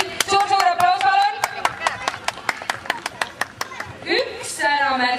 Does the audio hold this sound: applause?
yes